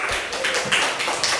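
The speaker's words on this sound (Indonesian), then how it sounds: "tepuk tangan untuk kelompok 2." Classroom clapping for a group of students, a short burst of quick, uneven hand claps that sound fairly close and crisp.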